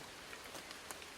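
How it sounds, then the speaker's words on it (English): Steady rain patters on surfaces, soft and even with scattered sharper drops, quiet and continuous with nobody speaking. "we can stay out in the rain"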